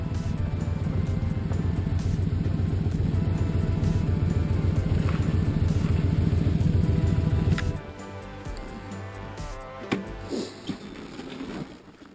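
A motorcycle engine runs steadily with a loud, close rumble for about eight seconds, then drops to a quieter idle with a few light knocks and clicks near the end.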